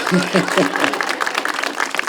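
A crowd at a ribbon-cutting ceremony applauds the mayor, a brief burst of mixed clapping with voices mingled in, fairly close and moderately loud.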